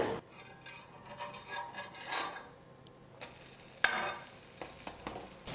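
A banana pancake sizzles quietly in a pan just after being flipped, with soft scraping and rubbing strokes and one sharp clink, close but low in level, no voices.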